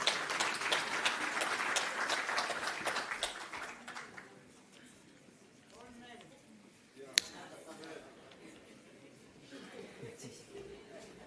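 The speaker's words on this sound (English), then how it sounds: "Please give them a round of applause." Audience applause at the 30th NEDLAC Annual Summit rises loud and dense for about four seconds, then fades into murmuring chatter and quieter scattered sound with one sharp click.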